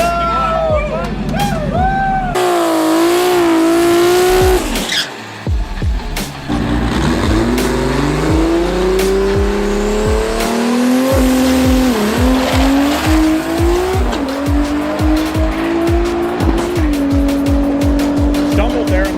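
SBE Toyota Supra race car revving hard through repeated gear changes with squealing tires, loud and close, engine pitch climbing and dropping in sweeps with a brief stumble, while voices shout over it.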